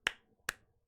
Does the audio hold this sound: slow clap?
yes